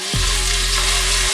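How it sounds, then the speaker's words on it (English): Beef short ribs sear meat side down in a very hot pan, a loud, steady sizzle that bursts in and holds constant, with no talking. "pan is nice and hot, so it sears the edges to a crisp golden brown"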